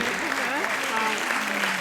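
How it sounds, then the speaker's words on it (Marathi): An audience claps for a prize winner at a prize distribution ceremony, with steady applause running throughout while a voice talks over it. "टाळ्यांचा गडगडाट झाला पाहिजे त्याच्यासाठी"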